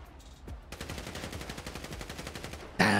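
Rapid automatic gunfire in the video game GTA 5, a fast even rattle of shots that runs for a couple of seconds before a loud, harsh blast cuts in at the end.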